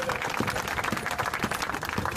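An audience in a church hall applauds, a brief, moderately loud patter of clapping from many hands with a steady crowded texture.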